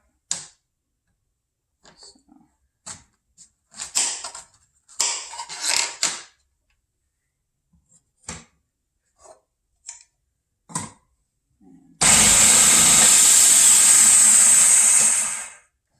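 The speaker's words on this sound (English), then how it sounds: "all the squash has been chopped up in the food processor" Yellow squash gets chopped in a food processor: scattered light clicks and knocks, then a loud, steady whirring burst of the motor for about three seconds before it stops.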